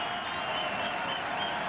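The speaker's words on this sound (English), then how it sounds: "And the crowd comes alive." Crowd at a college basketball game between ISU and Illinois State in 2002, a steady broad roar of cheering and applause filling the arena, loud and continuous with no break.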